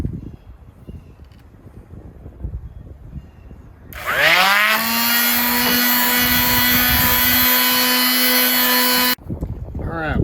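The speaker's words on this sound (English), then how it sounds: "now we're going to do a little bit of sanding" A power sander starts with a rising whine and runs loud and steady for about five seconds on a wood door repair after dog damage, then cuts off abruptly. Faint background noise comes before and after.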